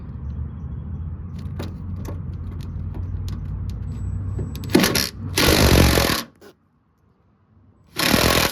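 A small impact wrench on a 1986 square body Suburban during blown engine removal, with light tool clinks before two loud close bursts of rattling hammering, a short pause, then another burst; no talking.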